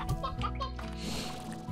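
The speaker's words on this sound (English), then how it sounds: "Two chickens back inside." Chickens in the video game Slime Rancher cluck in short, close bursts in a brief burst of fowl chatter.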